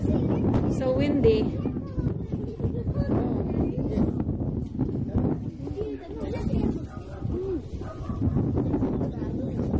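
Gusty wind at an outdoor yard sale rumbles and buffets the microphone continuously, a low roar under people talking, with a dog faintly audible at times.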